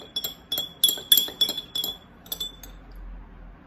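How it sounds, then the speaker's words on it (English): A spoon stirs a solution in a glass, dissolving it in plain water. Quick, bright clinks against the glass come in an irregular rhythm, close and clear, then taper off. "From the second glass, I'll take 2 spoons and dissolve in plain water."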